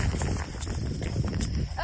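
A mare that has not been ridden in a while is walked in simple circles under a rider, her hooves clip-clopping in a soft, irregular rhythm beneath a speaking voice.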